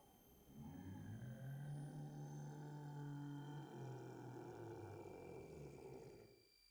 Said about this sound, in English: His roar shakes the earth.